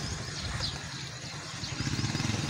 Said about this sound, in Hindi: बाइक पे जा रहा है कोई